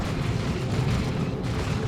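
A unit blows up during a 3v3 battle in Warhammer 40,000: Dawn of War 2, a dense, rumbling burst of noise that fills the whole stretch with sustained low roar, no voices on top.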